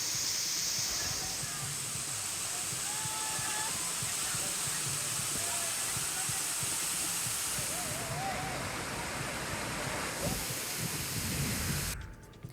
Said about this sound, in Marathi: चांदोलीमधील मनमोहक धबधबे कोसळू लागलेले